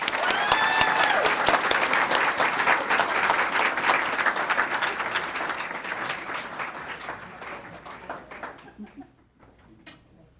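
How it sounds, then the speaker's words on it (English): Audience at a school board meeting breaks into sustained applause, dense clapping that holds strong for several seconds, then thins out and fades to a few scattered claps. "Can we give them a round of applause?"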